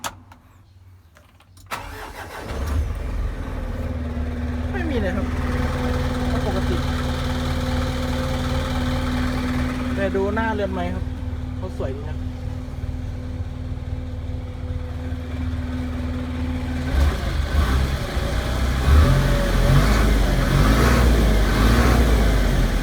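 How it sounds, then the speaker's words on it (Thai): A stock car engine starts, settles into a steady idle, then revs several times before rising louder toward the end; someone talks briefly over it. "เสียงรถเดิมๆไม่มีอะไรมาก"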